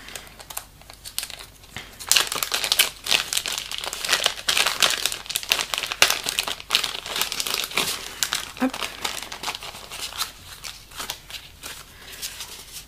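Papers rustle and crumple as they are handled close by, crinkling in busy bursts of varying loudness, and faint talk mixes in at times.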